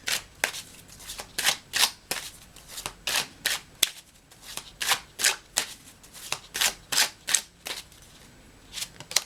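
Tree Keeper's Oracle cards shuffled by hand, a long run of crisp riffling bursts repeating in a steady rhythm, close and fairly loud with no talking.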